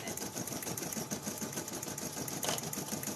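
An SE625 combo sewing and embroidery machine stitching felties on felt, a fast, steady mechanical whir with a dense needle rhythm running continuously and close, with no talk over it.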